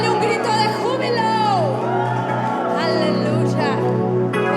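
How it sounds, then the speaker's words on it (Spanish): A church congregation shouting for joy, a loud mass of overlapping voices whooping and cheering together, sustained and close throughout with a few higher cries rising above the crowd. "Dale un grito de júbilo."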